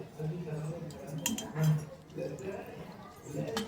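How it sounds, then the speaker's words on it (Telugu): A spoon is set down and a fork picked up at a table, giving light metallic clinks of cutlery against dishes under steady talk. "ఈ స్పూన్ ఇక్కడ పెట్టేసి ఫోర్క్ తీసుకున్నా."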